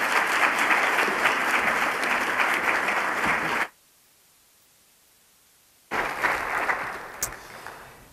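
An audience applauds to welcome Professor Lawrence Lessig as keynote speaker at SUNY Geneseo's Open Education Week 2019, a steady roar of clapping that cuts to silence for about two seconds before the clapping returns and fades.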